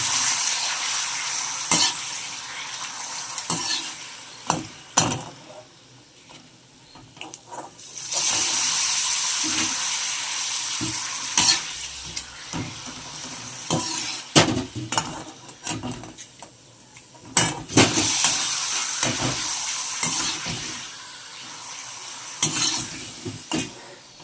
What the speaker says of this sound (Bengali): একটা একটা করে আমি পাঁপড়গুলো ভেজে নেব